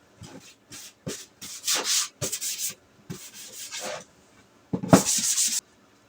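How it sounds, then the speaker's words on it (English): Sandpaper rubbing over a slick craft piece to rough it up before painting, heard as a series of short, scratchy back-and-forth strokes close by, alone with no talking, with pauses between bursts and a louder final run. "So the first thing I'm going to do is work on painting the face. Now this is kind of slick, so I'm going to sand it, rough it up a little bit"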